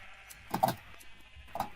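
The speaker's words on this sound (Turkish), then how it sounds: "Pembe, Pembe koyun, pembe, koyun." Pink sheep in Minecraft on the CraftRise server give two short bleats, one longer and louder, then a briefer one about a second later, over faint background game noise.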